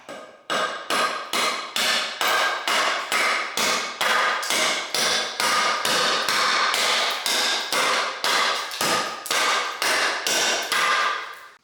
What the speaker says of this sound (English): Just gonna chop at it a little bit, see how it performs.